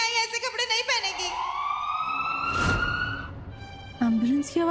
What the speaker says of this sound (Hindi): एम्बुलेंस की आवाज क्यों आई?